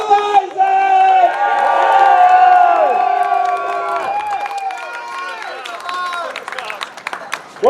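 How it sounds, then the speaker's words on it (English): Rally crowd at a marijuana legalization petition kickoff in Michigan cheering, whooping and clapping, loud and sustained at first, then tapering off while scattered shouts continue. "One more round of applause for Matthew Abel"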